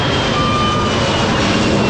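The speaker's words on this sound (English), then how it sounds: "Even planes fly here." Aircraft engine noise drones steadily overhead as a broad continuous roar with a faint whine, loud and unbroken for the whole stretch, heard along a road in Nepal on the route toward Everest.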